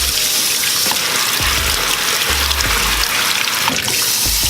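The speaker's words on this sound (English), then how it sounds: "The next thing you're gonna wanna do is wash your peppers thoroughly." Tap water runs hard over habanero peppers being washed in a sink, a loud, steady gushing splash close by that continues throughout, with no voices.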